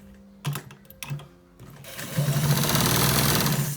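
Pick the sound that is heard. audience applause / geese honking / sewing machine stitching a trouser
sewing machine stitching a trouser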